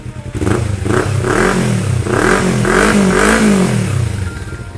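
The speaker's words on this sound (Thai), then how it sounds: "ผมมาฟังเสียงท่อกันเลย เสียงท่อเพาะนุ่มๆ สไตล์ 2 สูบนะครับผม" A modified Kawasaki Z300 two-cylinder motorcycle with about 40,000 km on it revs its exhaust at standstill. A series of loud, close, throaty blips rise and fall in pitch with a soft, smooth tone, and no talking.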